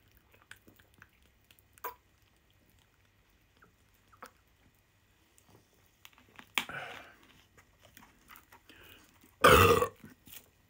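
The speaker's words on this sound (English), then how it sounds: "6 out of 10 for the burp" A burp after drinking Dr Pepper, a single loud, short belch near the end of an otherwise quiet stretch with faint small mouth and handling noises.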